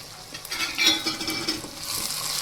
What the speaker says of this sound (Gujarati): અને તેને હલાવીને મિક્સ કરી લેશું.